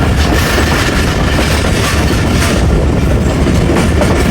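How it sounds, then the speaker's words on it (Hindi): Train rolling slowly past Ghungrila station under a caution order, a steady loud rumble of wheels with faint clickety-clack on the rails, heard from on board with no voices. "घुंगरीला से पास हो रही है हमारी ट्रेन।"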